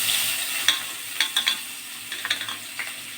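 Whole onions frying in a pan with dried red chillies for egg kosha, a continuous hiss of hot oil broken by short scraping clicks of a spatula stirring, close and with no talk.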